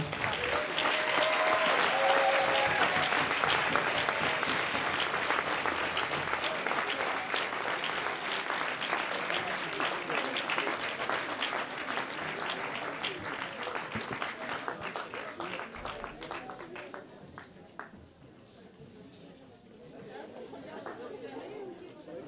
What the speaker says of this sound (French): je vais vous demander d'applaudir, mais alors énormément, la totalité des candidats qui vont me rejoindre